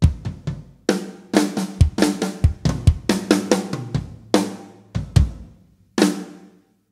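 A 1.5-bar drum fill from a song, with rapid close-miked tom and snare strokes rolling into cymbal crashes, loud with short gaps between bursts and no speech.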